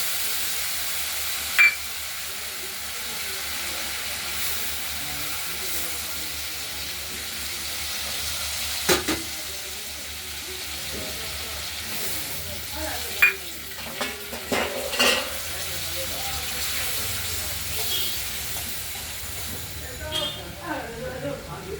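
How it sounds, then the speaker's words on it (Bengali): Spices and tomato sizzle steadily in a hot pan for a koi fish curry while a spoon stirs and scrapes at intervals, with a few sharper clinks of metal against the pan. "মশলাটা কষানো হচ্ছে, দেখতে থাকো।"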